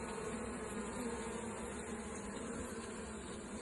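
A dense, steady hum of many honeybees at an active hive, a continuous buzzing drone close by with no pauses and no voices.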